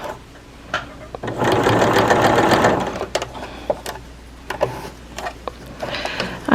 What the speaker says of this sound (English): I'm just sewing right in that little fold.